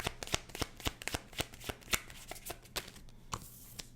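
Tarot cards being shuffled and drawn from a deck, a quick run of crisp close riffling snaps and flicks, quiet and steady with no talking.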